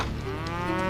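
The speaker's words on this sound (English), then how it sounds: "the Whateleys began buying cattle in unusual numbers" Cattle moo in a long, steady, lowing call that swells toward the end, fairly loud, with no talking over it.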